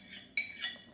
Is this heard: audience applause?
no